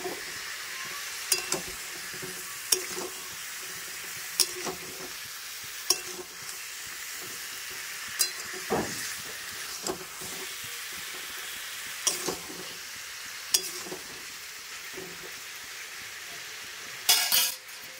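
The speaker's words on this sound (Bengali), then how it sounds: "তো ভালো করে কষতে থাকতে হবে" Tomato chutney with cashews and raisins being sautéed in a pan: a continuous soft sizzle runs throughout, broken by regular sharp clinks and scrapes of a spoon against the pan roughly every second or two, with no speech.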